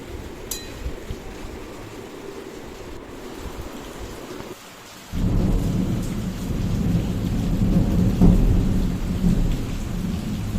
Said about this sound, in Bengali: বৃষ্টি কিন্তু এখনও চলছে